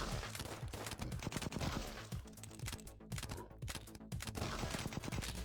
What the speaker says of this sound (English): shotgun blast comes in pretty handy up close like that